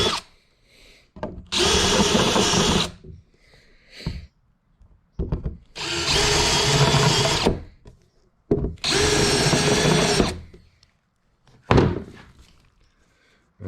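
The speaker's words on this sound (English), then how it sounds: "I'm going to ream these out a little bit." A power drill reams out holes in metal a-arm armor in four loud bursts of grinding whir, each lasting one to two seconds, separated by short quiet gaps with small clicks and knocks.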